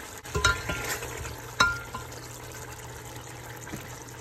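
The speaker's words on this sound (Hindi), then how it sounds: "तो ये अब मैं इसमें ये डालूंगी आधा कप दही" Yogurt stirred into chicken pulao in a pan over medium-high heat, a soft wet plop and a couple of scraping strokes over a low, faint simmering hiss.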